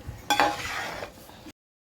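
A spoon stirs avial vegetables in a pan with coconut oil, a sudden clatter and scraping swirl with faint sizzle for about a second, then silence.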